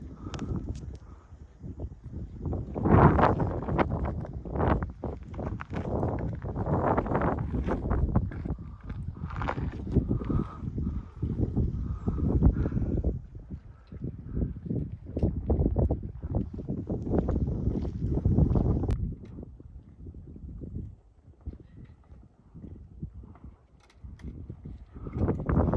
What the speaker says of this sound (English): The wind is actually pushing me.